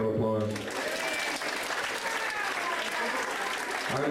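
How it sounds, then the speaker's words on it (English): Audience at a live stand-up comedy show bursts into loud, sustained applause that fills the room for several seconds, with a brief voice audible at the very start. "Can we give this guy a round of applause?"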